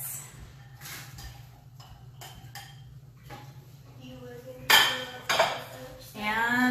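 Carrots tipped into a pot of chicken soup with chayote, making a few sharp clattering clinks of vegetables and utensils against the metal pot over a low steady hum.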